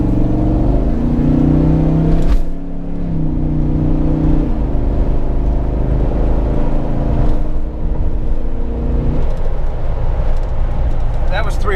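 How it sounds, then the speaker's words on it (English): Jeep JK fitted with an LT1 V8 pulls onto a highway under light throttle, a steady smooth engine drone with subtle gear changes, heard from inside the cabin with someone talking over it. "check out how effortless this LT1 pulls onto the highway, and especially try to note the shifting"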